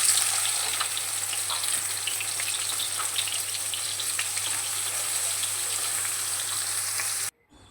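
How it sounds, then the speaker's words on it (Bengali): Eggplant pieces and lentil dumplings fry in oil in a wok, a steady, dense sizzle that fills the whole stretch and stops abruptly at the end. "প্রথমে কড়াইতে তেল দিয়ে বেগুনগুলো ভেজে তুলে রাখবো লাল করে আর বড়ি ভেজে তুলে রাখবো"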